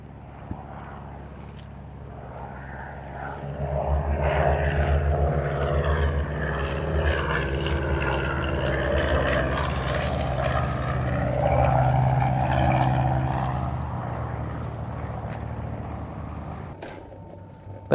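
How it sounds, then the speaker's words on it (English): A propeller airplane approaching an airport to land, its engine drone building steadily and holding loud and fairly near before cutting off abruptly near the end, with no talking. "You can watch airplanes come in and out. Here comes another plane in."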